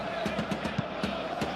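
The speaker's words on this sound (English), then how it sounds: "the crowd are reacting to that now" Stadium crowd in an eFootball simulation of a PSG vs Aston Villa Super Cup match, a steady broadband roar with faint bursts of shouting rising and falling throughout.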